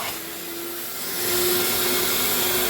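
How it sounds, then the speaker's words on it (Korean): A three-motor wet vacuum cleaner runs steadily with a loud whine and a rushing airflow, rising slightly in volume partway through, used to suck water from a Ford Explorer's flooded interior floor. "모터 3개짜리 청소기입니다."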